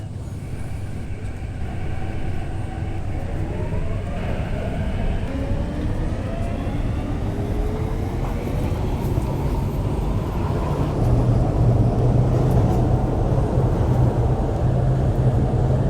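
An MTR C-Train runs between Choi Hung and Central stations in Hong Kong, with a loud continuous rumble of wheels and motor, rising and falling whine tones as the train accelerates, and no voices.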